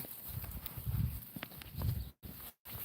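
Donkey hooves stepping slowly on the ground, a few soft, fairly quiet thuds at an unhurried walking pace.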